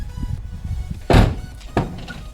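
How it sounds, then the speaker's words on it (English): A car door fitted with a Lamborghini-style LSD vertical hinge kit shuts with one heavy, close thunk, followed by a softer second knock, over low rumbling background noise. "the Lamborghini doors are down"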